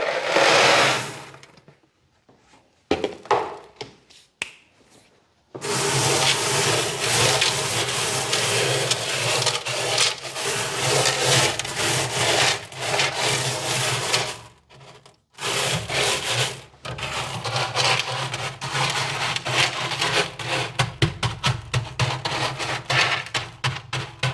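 Gravel pours and rattles into a terrarium tank as a drainage layer, a long, dense gritty rush of stones close by with brief pauses and shifting intensity, no talk.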